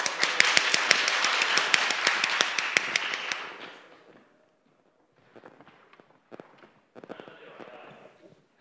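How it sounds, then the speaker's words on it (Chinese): An audience at the g0v summit 2020 conference applauds five organizers walking on stage. Dense, bright clapping runs for about three and a half seconds and then fades, followed by sparse taps and voices. "掌声欢迎"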